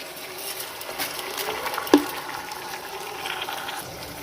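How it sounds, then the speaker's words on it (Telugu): Water is poured into a pot of washed basmati rice that was sautéed in oil for carrot rice: a soft, continuous pouring and splashing with one brief sharp clink midway, no voices. "ఇప్పుడు ఈ రైస్లోకి సరిపడా వాటర్ వేసుకోవాలి."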